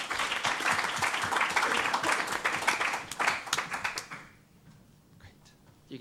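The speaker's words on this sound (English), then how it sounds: "Round of applause for the volunteer." An audience at a talk on mentoring for startup entrepreneurs gives a volunteer a round of applause, dense clapping for about four seconds that then fades out into a quiet room.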